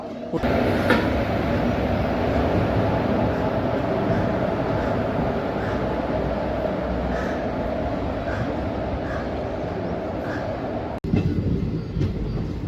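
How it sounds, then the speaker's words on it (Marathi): A passenger express train pulls out of Latur Road railway station, a continuous rumbling roll of wheels and carriages heard from on board, steady and fairly loud with faint clicks, briefly cut near the end. "12:20 आपली ट्रेन लातूर रोड रेल्वे स्टेशनवरून निघालेली आहे"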